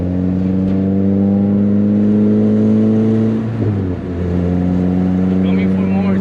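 A tuned car engine still running a factory header revs hard while accelerating, producing a loud, steady, droning tone that keeps pulling, with a brief dip and recovery midway.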